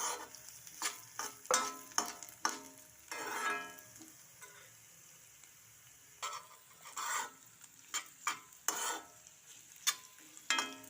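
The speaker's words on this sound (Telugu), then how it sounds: "బీట్రూట్ కూడా ఒక్క నిమిషం వేసేసి వేయించేసుకున్నాను" Boiled beetroot pieces stir-fried in a pan, with a spoon scraping and stirring in repeated bursts over a steady soft sizzle, close and fairly quiet, no talking.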